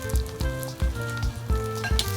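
A Chinese meat pie pan-frying after being flipped, a steady close sizzle of oil with soft rhythmic popping spatters about every half second.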